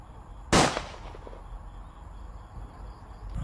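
A single sharp gunshot from a real gun fired during an elimination game, a loud close crack at the start followed by a short decaying tail over low background noise.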